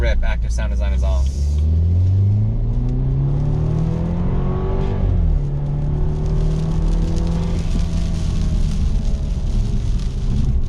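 A BMW 328i fitted with a BMW 335i exhaust accelerates hard on a rainy highway, heard from inside with active sound design off: a loud, deep engine rumble rising in pitch through a gear change, with road and rain noise beneath.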